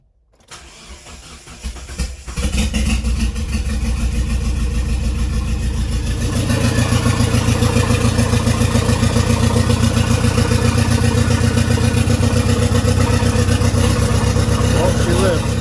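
A 1998 Talon's engine, running with no exhaust or downpipe fitted, cranks and catches, then roars at a loud, raw idle with a harsh, unmuffled rattle that keeps pulsing steadily.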